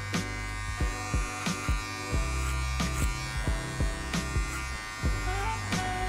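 Hair clippers buzzing close up while cutting over a comb at an angle with the taper lever open, a steady electric hum broken by regular quick strokes about every half second, no voices.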